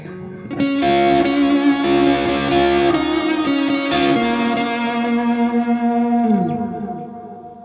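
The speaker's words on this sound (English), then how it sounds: "Let's go to a really fat, overdriven sound." A Warmoth Redshifter electric guitar played through the neck pickup with a fat, overdriven tone rings out in sustained distorted chords that shift pitch near the end before fading, with no voices.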